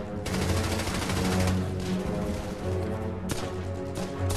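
German machine guns fire in dense, sustained bursts, loud and close, with heavy rattling that swells and eases, then breaks into a sharp new volley near the end.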